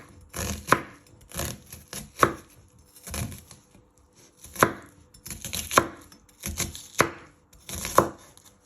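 A knife slicing an onion for homemade spaghetti tomato sauce, about a dozen separate crisp chops on a cutting board at an uneven, unhurried pace, close and with no talking.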